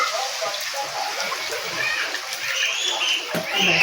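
Water is poured into sizzling frying spices in a pan for pabda fish curry, a splashing, hissing sizzle that swells toward the end, with a voice in the background.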